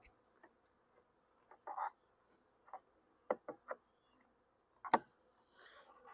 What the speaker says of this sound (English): the air is pretty thick with bees right now